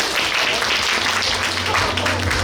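An audience at a youth forum in Suncheon applauds loudly as a video begins, a dense burst of clapping over a few seconds with some low background sound underneath.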